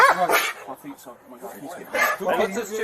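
Police dog barking close by at a scene where officers order people out of a building, short loud barks in two bursts mixed with shouted speech.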